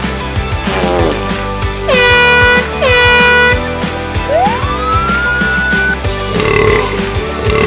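Loud air horn prank sound effect from a phone app, blaring in two long sustained blasts followed by a rising, siren-like whoop, all set over a busy musical backing track with no voices.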